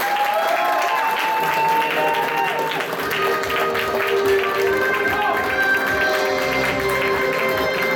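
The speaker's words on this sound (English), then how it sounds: "so let's give a round of applause one more time" Convention crowd applauding a game-show contestant at a fan convention quiz, steady sustained clapping for the full stretch with cheers and voices mixed through it.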